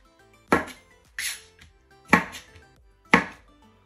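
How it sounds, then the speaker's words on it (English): A knife chops vegetables into quarters on a board, giving four sharp, evenly spaced thuds about a second apart, each followed by a softer tap, close and clear with no talk. "I'm just gonna chop them to quarters first."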